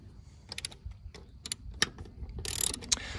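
Lug nuts spun by hand onto a wheel of a 1958 Ford 871 Powermaster tractor, a run of quick metallic clicks and ratcheting rattles at close range, growing busier and brighter toward the end, with no talk.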